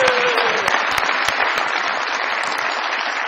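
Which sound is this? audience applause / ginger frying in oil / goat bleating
audience applause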